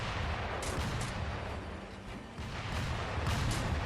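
Several gunshots ring out in rapid, dense bursts as shots rain down on a player in Sekiro, loud and close, layered over rumbling in-game combat noise with a brief dip before the volley resumes.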